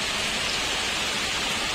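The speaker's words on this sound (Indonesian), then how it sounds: "hujan" Steady broadband rain pouring down during a flood in Rantau Nangka, Sungai Pinang, Banjar regency, a continuous close hiss with no voices.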